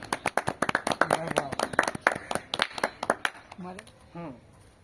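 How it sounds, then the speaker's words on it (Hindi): An audience at the Basantarambh 2025 cultural event claps in a brisk burst of applause after a poem recital, and a voice is briefly heard as the clapping fades. "ताली बजाओ।"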